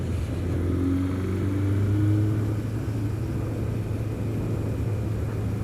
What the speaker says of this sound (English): It sounds really sort of subtle when you're accelerating, but it is actually accelerating pretty hard.